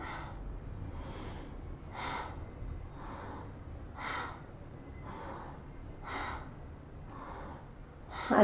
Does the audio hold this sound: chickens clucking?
no